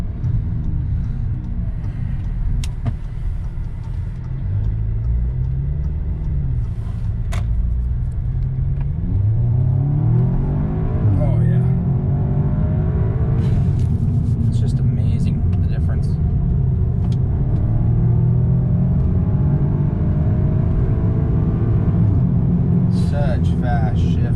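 A tuned 2016 Audi S3 with a stage 1 and DSG tune accelerates hard, its engine rumbling loudly with rising and falling pitch sweeps as gears shift quickly, a voice talking over it throughout.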